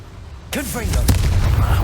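In the video game Hogwarts Legacy, a short shouted voice is followed at once by a loud Confringo fire-spell explosion, a sharp crack that settles into a rumbling low boom.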